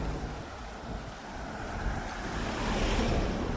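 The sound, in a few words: sea waves washing up on the shore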